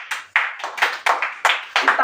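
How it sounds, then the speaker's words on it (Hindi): People clap hands in a quick, uneven run of about nine sharp claps, loud and close, with no talk over them. "ताली बजाने वाली बात कोई नहीं है"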